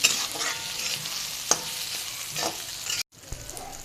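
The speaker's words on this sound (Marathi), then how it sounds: "हे बघा, असं सारखं हलवत राहिलं पाहिजे, नाहीतर करपल मसाला खाली" Masala for a brinjal curry fries in a pan while a spoon keeps stirring it, giving a steady close sizzle with scrapes and clinks, and the sound cuts out briefly near the end.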